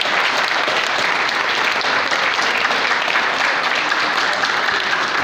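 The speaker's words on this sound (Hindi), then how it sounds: "मुरली मनोहर जी के लिए एक बार जोरदार तालियां, उनके आयोजन के लिए तालियां" Loud sustained applause from the audience at a Lions Club regional convention, honoring the event's organizer Murli Manohar; thick, even clapping throughout with no pause.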